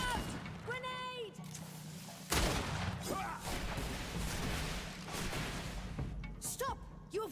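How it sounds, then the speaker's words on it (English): Grenade blast in the fantasy action RPG Greedfall, a sudden loud burst about two seconds in that rings out into a noisy combat rumble amid voices and clashing fight sounds. "Watch out! Grenade!"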